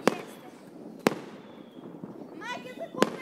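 Firecrackers bang sharply during a New Year's Eve celebration, three distinct cracks spaced about a second apart, with people chattering and calling out in between.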